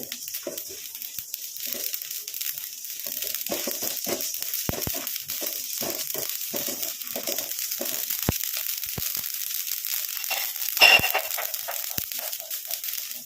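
Mustard seeds and black cumin splutter in a pan, popping in quick irregular bursts of dry crackles over a quieter sizzling bed, close and moderately loud, with one sharper pop near the end.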